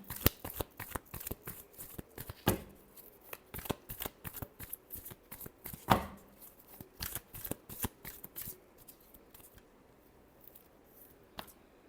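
Tarot cards being shuffled by hand, a rapid run of crisp riffling flicks and soft slaps up close, with a few sharper snaps along the way and no talking.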